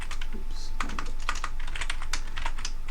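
Fingers type steadily on a computer keyboard, a quick run of light clicking keystrokes heard close and alone, with no speech.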